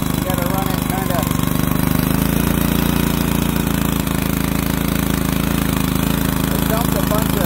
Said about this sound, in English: Put a new carburetor on this last year. You gotta run it kind of.